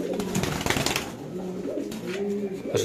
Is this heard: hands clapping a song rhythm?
no